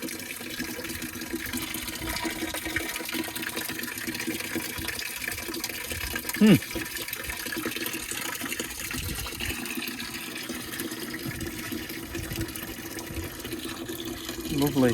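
Coolant drains from the bottom radiator hose of a truck on a cold, windy day, a steady liquid pour running throughout with a brief louder splash midway; a voice speaks once.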